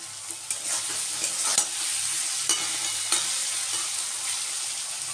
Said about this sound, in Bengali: আর এদিকে আমি দিয়ে দিলাম নুনটা দিয়ে আবারও ভেজে নিচ্ছি।